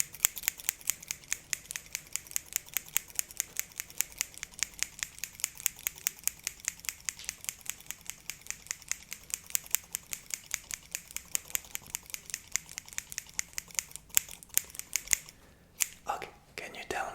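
Scissors snip rapidly and steadily, close up, a long run of crisp metallic cuts, with a few louder snips near the end.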